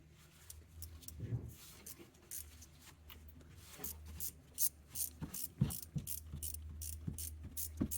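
A 12 mm ratchet clicks while loosening a belt tensioner bolt on a Mazda CX-9, quiet close pawl ticking in short rapid bursts mixed with faint metallic handling.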